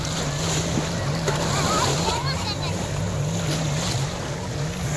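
Sea waves wash and splash at Bang Saen beach under a steady wind roar, while a low motor drone hums underneath and voices talk nearby.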